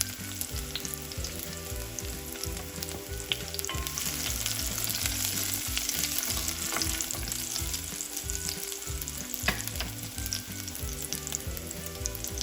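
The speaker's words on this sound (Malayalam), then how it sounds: "വെളുത്തുള്ളി ചേർത്തു, എണ്ണയിലൊക്കെ ഫ്ലേവറൊക്കെ ഒന്ന് പിടിക്കട്ടെ." Chopped garlic sizzles steadily in hot oil in a pan, a dense continuous crackle with light stirring scrapes, close and fairly loud throughout with no talking.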